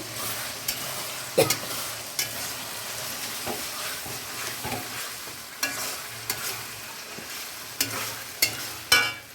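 Onion paste frying in a pan for an egg curry, a constant sizzle broken by sharp clicks and clatters of stirring, several louder spits near the end.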